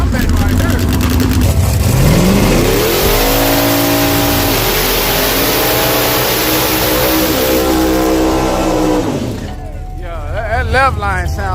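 Street drag racing cars launching side by side, loud close engines roaring and rising in pitch as they accelerate hard, then fading away after several seconds, with crowd noise underneath.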